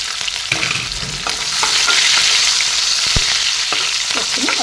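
Onions and green chilies frying in oil in a fish-curry pan, a strong hissing sizzle that swells partway through, with a few sharp spatula knocks, close and loud.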